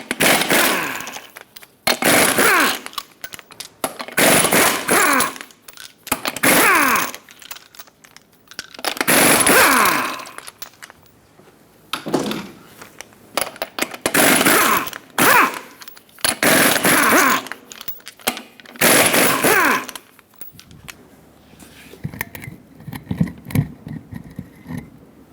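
Lug nuts coming off the front wheel of a 2000-2005 Ford Excursion with a 21mm socket: about eight loud, buzzing power-tool bursts, each lasting a second or two, separated by short pauses, ending in quieter clatter.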